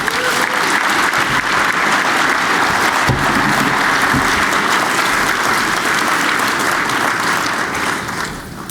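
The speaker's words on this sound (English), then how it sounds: "please give a round of applause for him." An audience at an annual memorial lecture gives a sustained round of applause, dense and steady from a large crowd, tapering off at the end.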